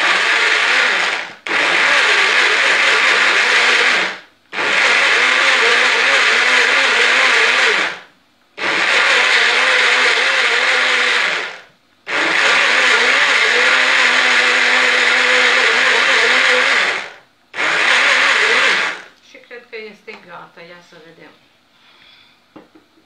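Blender mixing ingredients for lemon ice cream in a home kitchen, running loud in five sustained bursts separated by brief pauses, then stopping as clattering handling noises follow.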